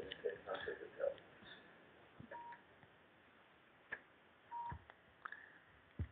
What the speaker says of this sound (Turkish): benim telefon çaldı.